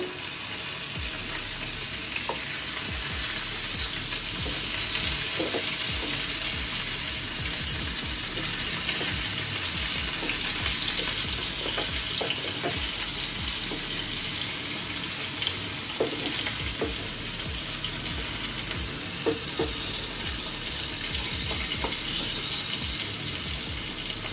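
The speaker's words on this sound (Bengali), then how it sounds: "এবার একটু আস্তে আস্তে উল্টে দেওয়ার চেষ্টা করি পটলগুলোকে" Pointed gourds (potol) fry in a pan with a continuous hissing sizzle, while occasional light clicks and scrapes mark the pieces being gently turned over.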